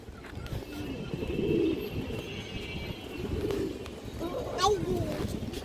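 Pigeons coo softly and repeatedly in a loft among birds kept for sale, their low throaty calls rising now and then beneath someone talking continuously close by.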